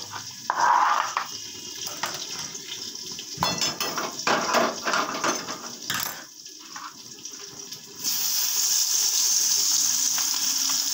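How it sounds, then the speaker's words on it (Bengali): Tangra fish rubbed with salt and turmeric go into hot oil with cumin in a kadai, with close clattering of a utensil against the pan before a loud, steady sizzle takes over. "এগুলোকে একটু কড়ার মধ্যে সাঁতলে নেব"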